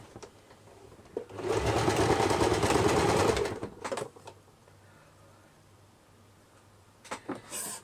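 A sewing machine stitching a doll's dress from arm to skirt hem runs in one fast whirring burst of about two seconds, then falls quiet apart from faint handling clicks and rustles.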